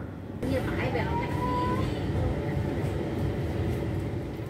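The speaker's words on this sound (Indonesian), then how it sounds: "kereta api Argo Cirebon kembali diberangkatkan melanjutkan perjalanan dari stasiun Haur Gelis pukul 14:52 menit" Argo Cheribon passenger train pulling out of Haurgeulis station, a steady low rumble of wheels and engine building from a quiet start, with a brief horn-like tone early on.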